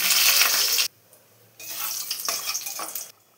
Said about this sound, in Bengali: কটা বড়ি ভেজে নেব।